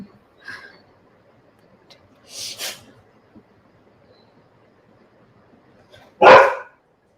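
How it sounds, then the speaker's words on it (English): A dog barks alone in a quiet room, with a couple of soft, distant barks and then one loud, close bark near the end. "That's your dog."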